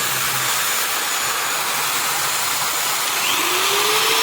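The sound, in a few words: 500-watt angle grinder switched on and running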